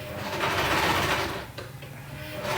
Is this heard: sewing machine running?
yes